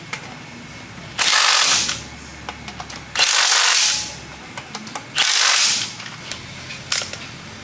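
A torque stick on an impact wrench tightens wheel lug nuts on a 455 Pontiac LeMans, firing three loud, evenly spaced rattling bursts of about a second each, with quiet shop clatter between them.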